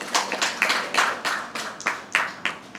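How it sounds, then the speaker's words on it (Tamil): Audience applause for a college team at a Tamil debate competition, heard as a series of separate, fairly close hand claps in an uneven rhythm with no talking over them. "உங்களுடைய உற்சாகமான கரகோஷம்."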